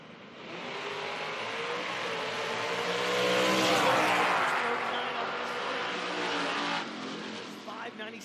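Nitro drag race cars, a Camaro and a Dodge Avenger, roar loudly at a drag strip, a sustained powerful engine blast that swells to a peak midway and then holds, under a track announcer's voice.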